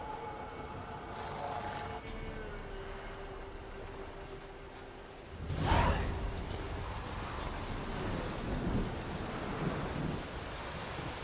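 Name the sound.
thunderstorm with rain in video game The Witcher 3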